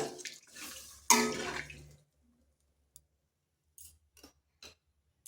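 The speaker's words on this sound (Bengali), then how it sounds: "এরপর দিয়ে দেবো জল" Water is poured into a cooking pot of simmering fish curry with elephant foot yam, a splashing rush lasting about a second, followed by quiet with a few faint clicks and taps.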